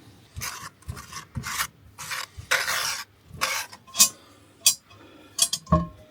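Butter being spread and rubbed around the inside of a camp cooking pan at a riverside campsite, a run of close scraping, rasping strokes in short bursts with brief pauses between them.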